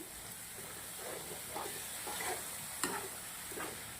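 Dahi arbi curry with green peas is stirred in a pan, with soft scraping strokes over a faint steady sizzle and hiss and a few light clinks, quiet and close.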